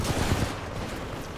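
Rapid gunfire in the video game Titanfall 2, a brief dense burst of close shots with a steady rattling rhythm and no talking.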